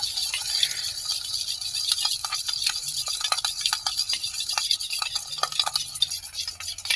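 A spoon stirs a lemon juice skin paste in a bowl, making a quick run of light clinks and scrapes against the bowl. The sound is close and moderately quiet, and no one speaks.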